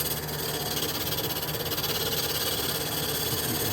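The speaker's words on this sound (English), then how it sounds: "The motor on this lathe is a variable speed, and there's something wrong with it. When I put a lot of load on it," A variable-speed lathe motor with a fault labours under heavy load, giving a dense, loud, steady droning hum with a fast throbbing pulse running throughout.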